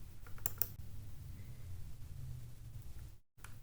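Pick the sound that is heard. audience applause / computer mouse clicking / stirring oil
computer mouse clicking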